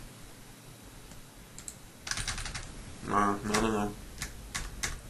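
Quiet bursts of typing on a computer keyboard: a few isolated key clicks, then faster clusters of taps. A person speaks briefly in between, close and fairly soft.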